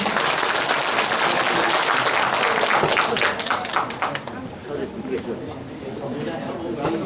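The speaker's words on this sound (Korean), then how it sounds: "박수 한번 쳐주시죠" Audience applause at a Buddhist rebirth debate in Busan, steady and dense for about four seconds, then thinning into scattered claps and murmuring voices as people talk.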